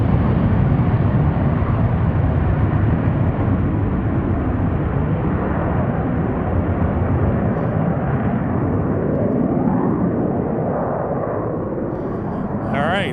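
Blue Angels solo jets flying low over Boeing Field produce a heavy, sustained roar that fills the whole stretch and slowly eases near the end, with a voice talking faintly underneath.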